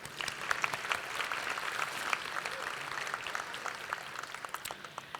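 Audience applause for the caterers at a Thibodaux Chamber banquet: steady, moderately distant clapping from a dinner crowd that holds evenly for about five seconds with no voices over it.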